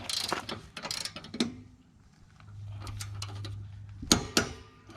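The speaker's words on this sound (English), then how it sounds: "So now I'm gonna tighten it to 75 foot-pounds." Ratchet wrench tightening a bolt on a noisy trailer equalizer hitch to 75 foot-pounds, with bursts of close ratcheting clicks, a brief steady hum, then a few sharp metallic clanks.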